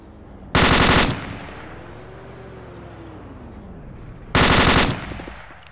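Machine gun firing two short, loud bursts of several rounds each, separated by a few seconds of quiet, with a faint vehicle or aircraft hum rising and falling in the background.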